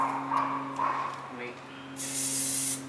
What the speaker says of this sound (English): it's not as bad as this considering this is an aerosol